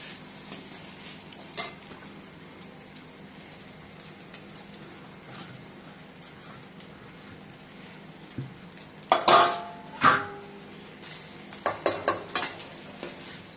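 Mango rice being stirred in a cooking pan, with a quiet background sizzle and a few sharp spoon-against-pan clinks and scrapes clustered toward the end.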